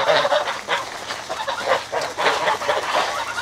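Several geese honk close by in a rapid, overlapping series of harsh calls, with no talking.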